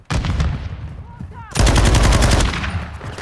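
Video game gunfire bursts in close and loud, with rapid automatic fire that stops briefly and then starts again even more heavily. A voice can be heard faintly during the pause.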